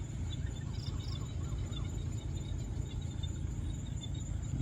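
Frogs calling at a pond at dusk, blended with insect trilling into a steady, dense chorus that carries on without a break, with a few faint higher chirps on top.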